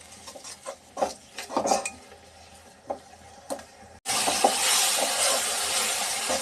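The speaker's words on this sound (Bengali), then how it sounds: "এখন ভালো করে মশলাটা কষিয়ে নেব।" Spices with salt and coriander powder are stirred and fried in a pan for a radish and stinging-catfish curry. Scattered scraping clinks and taps come first, then a loud, steady sizzle takes over for the final seconds.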